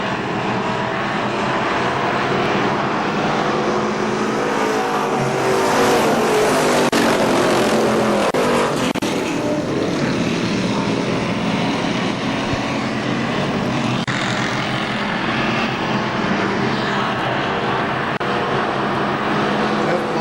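Race cars circling the KilKare Speedway oval, a continuous loud roar of engines with swelling and fading passes, steady throughout under crowd and track noise.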